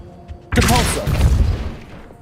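The Depulso spell cast in Hogwarts Legacy: a sudden loud whooshing blast that swells and rumbles for over a second before trailing off, following a quiet lead-in.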